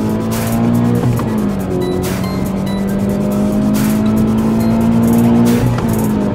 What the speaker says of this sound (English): Oh yeah, definitely you notice the car pulling way harder.